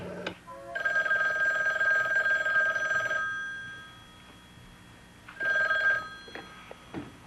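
A telephone rings at Matthew's cottage in two bursts of bright electronic trilling, the first lasting over two seconds and the second shorter after a pause, with faint room noise between.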